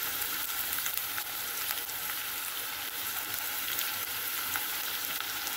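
Onion, garlic and ginger fry in a pan for biryani, producing a steady, fairly soft close sizzle with faint crackles and no voices.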